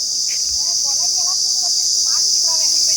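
Loud, steady insect drone of cicadas or crickets fills a green forest near Periyakulam, a continuous high-pitched buzz running throughout with faint bird chirps scattered underneath.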